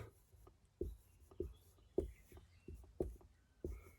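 Pen writing on paper in a quiet room, faint rhythmic strokes and taps about every half second.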